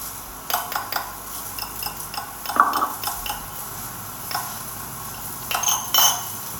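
Soy sauce and fish sauce seasonings for a pork belly basil stir-fry are stirred in a dish, producing light, scattered clinks and taps of a spoon against the container, close and fairly quiet.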